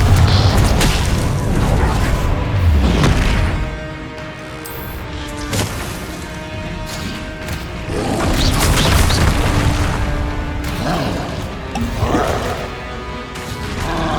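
Confringo fire spell blasts in the video game Hogwarts Legacy during a combat sequence; loud booming explosions roll over a dense, continuous battle din with roaring creature sounds, close and heavy throughout.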